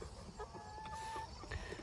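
Quiet clucking from farm chickens and roosters nearby, short soft calls scattered over a low background, with a brief tonal call in the middle.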